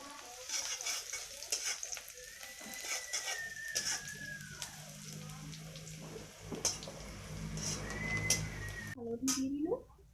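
Fenugreek leaves, ginger and garlic sizzle and crackle in hot oil, a soft steady frying hiss with scattered stirring clatters, fairly quiet, with a brief voice near the end.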